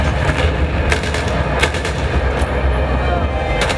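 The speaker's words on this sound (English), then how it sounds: "There's some of that cool explosion-y tech stuff we talked about." A rolled bomb explodes in Battlefield 4, shown at a PAX Australia 2013 Xbox One event: loud, continuous rumbling blasts and sharp cracks of battlefield gunfire, dense and close, with a few distinct impacts standing out.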